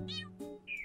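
A cartoon cat meows twice in a mobile cat cafe game, a short bright meow followed by a higher rising chirp, clear and close.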